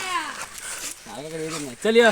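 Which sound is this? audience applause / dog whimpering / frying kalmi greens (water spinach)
dog whimpering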